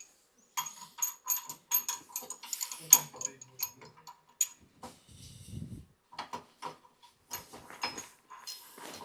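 A ratchet tightening a nut with lock washer on a belt-drive walk-behind tractor being assembled, with quick bursts of sharp clicking and short pauses between strokes, close and fairly quiet.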